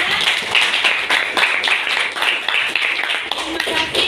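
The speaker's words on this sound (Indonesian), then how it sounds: "Tepuk tangan untuk kita semuanya." A class claps hands in applause, an even patter of many hands throughout, close and moderately loud, with voices mixed in.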